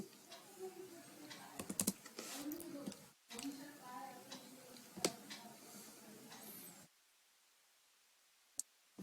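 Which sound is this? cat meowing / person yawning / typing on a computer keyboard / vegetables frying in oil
typing on a computer keyboard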